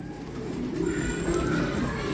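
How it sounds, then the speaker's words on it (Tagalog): An escaped banded racing pigeon coos outdoors at night, a low, soft, rolling call over steady background noise. "May ibon sa labas may nakawala tayong ibon guys."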